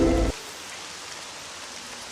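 Heavy rain pours down in a Kannada cartoon film scene, a dense, even hiss that carries on throughout after a brief louder sound at the very start.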